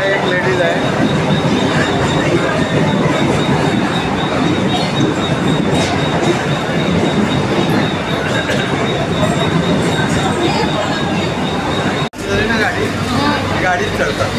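A local train running on the Ambarnath line, heard from inside an open coach during off-peak hours. Loud, steady rumble and rattle of the wagons with wheel squeal, a brief dropout near the end, and faint chatter in the background.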